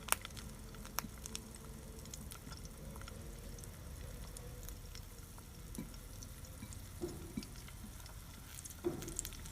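Slices of bread sit in oil in a pan that is not yet fully hot, giving a faint, steady low sizzle with scattered soft crackles and pops.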